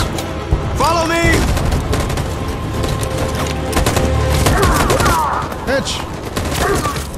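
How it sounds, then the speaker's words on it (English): Sustained machine gun fire rattles nonstop in the Detroit: Become Human video game, dense and loud, with booming impacts and a shouted voice cutting through the barrage. "That machine gun is taking down everything that moves!"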